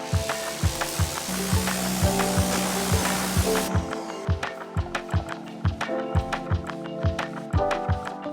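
Wheel cleaner and Iron X sprayed onto a car wheel make a steady, close hiss for about four seconds, then stop, with a rhythmic tapping beat running underneath throughout.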